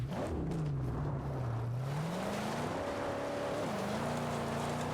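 A turbocharged car engine in the video game Mad Max revs continuously, pitch sliding down then climbing and shifting, a steady loud drone with no talking.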